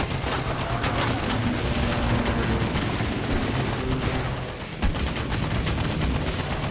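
Sustained automatic gunfire in the VR shooter Medal of Honor: Above and Beyond, a dense, loud rattle of rapid shots running nearly unbroken with a brief dip near the end.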